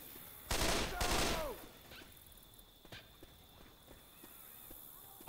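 Guns in a modded Minecraft game fire two dense, loud volleys of rapid shots within the first second and a half. Scattered quieter clicks and footsteps follow, with players' voices faintly in the background.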